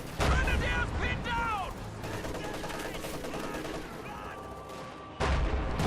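Rattling infantry rifle and machine-gun fire from a WWII strategy game, German Obersoldaten firing on a captain, scattered shots and bursts with a sharp louder blast near the end, a commentator's voice running beneath.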